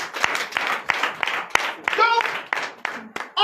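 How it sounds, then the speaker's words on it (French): Applause and clapping fill a church during a night prophetic worship service in Comè, Bénin, bursts of claps rising and falling over cheering voices, with a pause and a renewed surge near the end. "Donnez l'acclamation à notre Seigneur"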